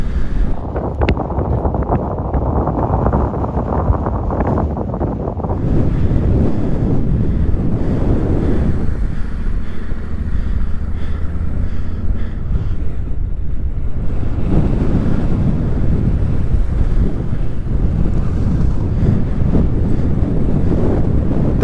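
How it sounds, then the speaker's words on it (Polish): Off-road vehicle fording a river on the TMT trail in Morocco, with steady rushing water and heavy wind buffeting the microphone throughout, loud and close with a surging middle stretch. "przejechanie przez rzekę to jest tu najprostsza z tych"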